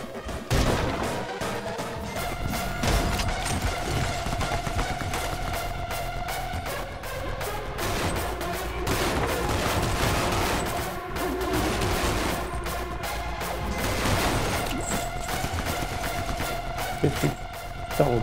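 Gunfire in the Anger Foot video game, loud and chaotic, with repeated shots, crashes and impacts running almost without pause, set over a steady game music bed.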